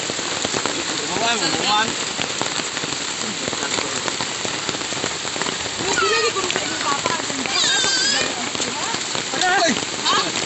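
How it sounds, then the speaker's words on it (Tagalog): Steady, dense rain falls on surfaces outdoors in Maribojoc, Bohol, in the Philippines, a constant loud hiss throughout while several people talk and call out over it. "It's raining"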